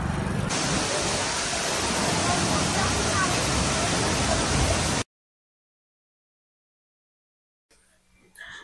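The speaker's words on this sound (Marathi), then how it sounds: "हा आहे केम्प्टी वॉटरफॉल जो की मसुरीमध्ये येतो" Kempty Waterfall in Mussoorie sends up a loud, dense roar of falling water for about five seconds before the sound cuts out, followed by near silence and then a faint return of noise.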